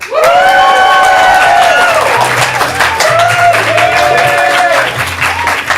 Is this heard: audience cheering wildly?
yes